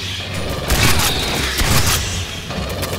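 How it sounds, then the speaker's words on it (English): Gunfire in the video game Aliens Fireteam Elite, loud bursts of rapid shots and thuds packed close together over a dense battle din, with no talk. "I heard gunfire."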